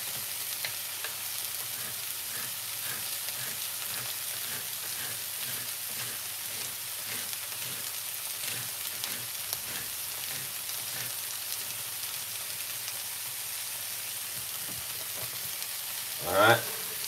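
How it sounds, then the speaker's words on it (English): Pineapple and spring onion fry in a pan with a steady, fairly quiet sizzle and faint stirring scrapes throughout, ending in a brief louder clatter near the close. "So I make sure I put in the pineapple. Also, we got some spring onion."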